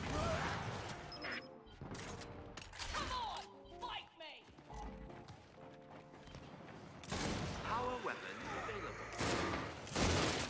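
Gunfire and heavy explosive blasts from the Boomshot grenade launcher in Gears 5 ranked free-for-all, a series of loud thumping bursts and crashes spread across the clip with dense game noise between.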